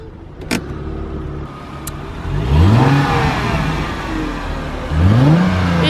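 A new car's engine running and revving twice in a garden driveway, rising whines over a steady idle, close and fairly loud, with a brief click at the start and no talk.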